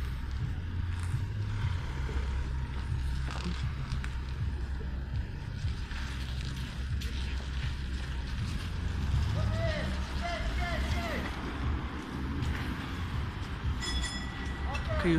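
An Alfa tram pulls away: a heavy, steady low rumble of motors and rolling wheels fills the scene. Some metallic squealing comes near the end, and voices are faintly present beneath it.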